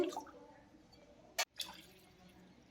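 Water is poured from a glass into a pressure cooker holding washed dal, heard as a few faint, brief splashes and trickles in a quiet room, with one sharper burst midway.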